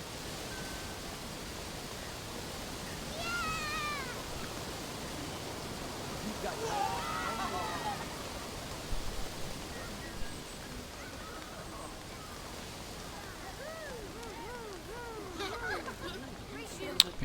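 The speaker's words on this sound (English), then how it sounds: "all you hear is the waterfall." A waterfall in Disneyland Adventures, a game set in the park, roars as a steady broadband rush, with faint game effects and bird-like chirps drifting over it.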